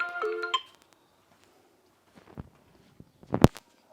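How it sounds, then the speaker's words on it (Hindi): A mobile phone ringtone plays a short melodic burst, then falls quiet apart from a few scattered soft knocks and thumps. "तो रविंद्र का फोन आ गया"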